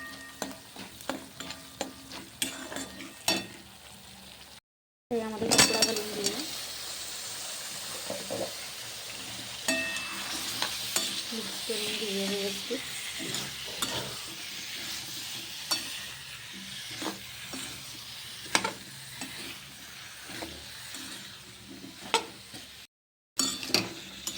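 Pumpkin bhaji being stirred with spices in a pan, a close sizzle with frequent spatula taps and scrapes against the metal throughout, briefly cut off twice.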